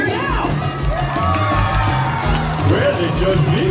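Children's audience cheering and shouting together as a loud, continuous crowd roar, with excited whoops rising and falling throughout.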